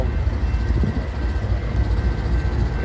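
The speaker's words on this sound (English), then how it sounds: "The train has to go real slow." A BNSF autorack freight train rolls slowly through a rural crossing with broken gates, giving a steady, broad rumble and rattle of cars that holds level throughout without any voices.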